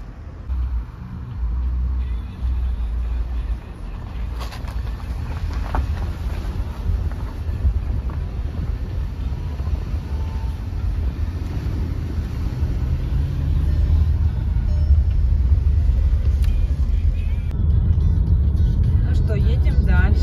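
Car rolling along a road on a holiday road trip near Lipetsk, a steady low road rumble with heavy wind buffeting the microphone, building slightly louder toward the end.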